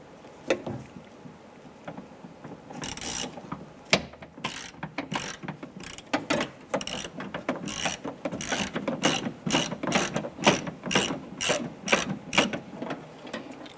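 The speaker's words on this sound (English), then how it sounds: "We're going to use our extension in our socket. Let's go ahead and loosen those." A socket ratchet on an extension loosens 8mm bolts on the driver's side door of a 2005-2010 Chrysler 300, a close, rapid clicking that comes in bursts and speeds up toward the end, with no talking.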